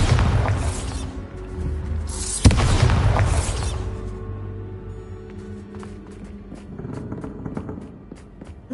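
A Bombarda spell blast in Hogwarts Legacy, one loud booming explosion that rolls off into a long rumbling decay, with softer clicks and game sounds after it.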